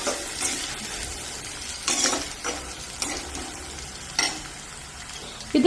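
Onions and spices sauté in hot oil for a thick coconut-free sardine curry, a steady sizzle broken by several bright scraping stirs of a spoon against the pan.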